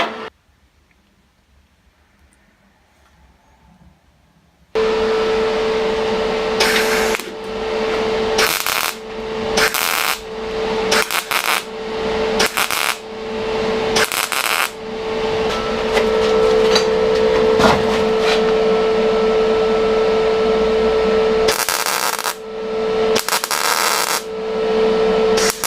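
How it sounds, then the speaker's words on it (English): A wire wheel strips rust from the body of a BMW 2002 Touring under restoration, in loud, harsh bursts of grinding with short pauses between them. The clip opens with a few seconds of near silence before the grinding starts. "Given this a bit of a whack with the wire wheel"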